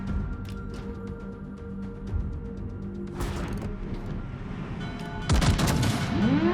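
Heavy gunfire from an eight-gun Tier 9 battleship, the Adatara, in a naval video game, with repeated booming blasts over a constant engine and sea rumble and a louder salvo near the end.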